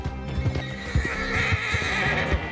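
A horse in the Red Dead Redemption 2 video game neighs over rapid, pounding hoofbeats as it gallops, loud and close, with no talk over it.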